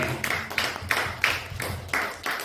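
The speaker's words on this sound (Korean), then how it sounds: "영광의 박수 합시다." A church congregation in Busan claps after a Sunday sermon, with six or seven evenly spaced, unison claps in a slow steady rhythm, moderately quiet and heard without talk.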